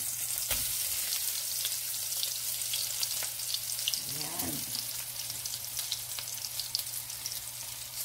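Silver fish patties frying in a pan, a steady soft sizzle and crackle with a brief stirring or flipping scrape midway, fairly faint and close.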